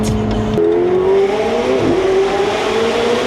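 A Porsche Turbo S accelerating hard, its engine pitch climbing steadily in a loud, close, sustained rev after a brief tire squeal at the start, with no talk.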